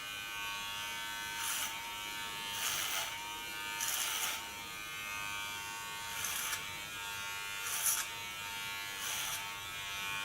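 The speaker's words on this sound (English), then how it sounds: "the clipper can do the work much nicer and easier" Electric hair clipper buzzing through very short hair, run in repeated passes along a comb, six or so bursts of sharper cutting noise rising over a steady motor hum, close and moderately loud.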